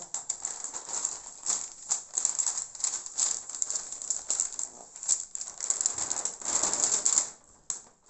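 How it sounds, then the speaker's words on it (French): Stiff, thick paper, likely art canvas, crinkles and rustles up close in uneven bursts, with crisp rattling handling noises and no talking. "entendre le bruit du papier qui est épais"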